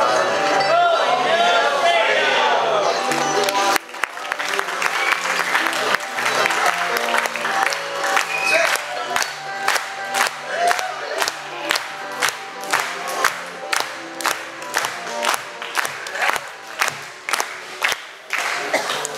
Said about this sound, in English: can we try that, the clapping in unison stuff?